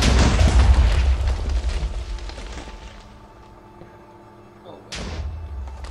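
TNT explodes in a video game during a tower demolition, opening with a loud, deep boom that rumbles and fades. A second sharp blast follows near the end.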